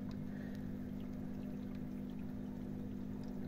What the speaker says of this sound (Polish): pompa od hydroponiki już złapała tą wodę i już od razu słychać, że jest lepszy przepływ